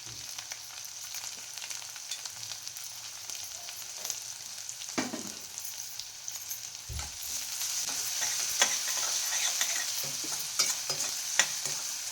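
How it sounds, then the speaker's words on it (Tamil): Finely chopped onions stir-fry for Chinese Manchurian with a soft, steady sizzle, while a spatula scrapes and taps the pan at irregular intervals. "அடுத்தது வெங்காயம் சேர்த்துக்கலாம் வெங்காயமும் அந்த மாதிரி நல்லா குட்டியாக கட் பண்ணி வச்சுருக்கேன்"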